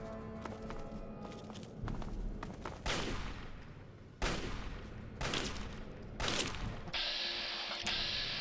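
Gunfire from turrets in a Fallout 3 fight: a rapid spatter of shots with several louder, sharper reports spaced a second or so apart, mid-distance and fairly quiet overall, with no voices.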